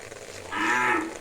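A single cow moos in a rainy village farm setting, a short, fairly close low call that rises after a brief quiet background of faint rain.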